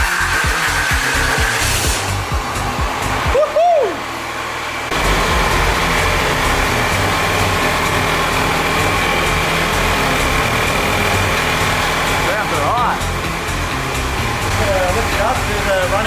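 Compound turbo Cummins diesel engine cranks, fires and settles into a loud steady running drone with a brief drop early on, with people talking over it.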